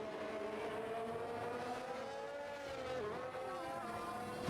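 On-board engine of a Red Bull racing car in a racing video game at France, a steady high-revving whine with gear-shift pitch changes, loud and continuous, heard alone without talk.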